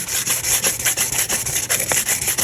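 Light hand sanding roughing up the cured epoxy resin surface of a Christmas tumbler, a steady close scratchy rubbing with repeated short strokes throughout.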